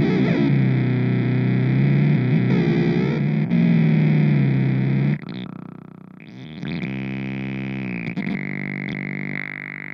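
A Line 6 FM-4 Filter Modeler pedal in its synth mode turns an instrument into buzzy, distorted, filtered synth tones, with gliding pitch shifts, a brief dip near the middle, then a brighter sustained passage, loud and alone.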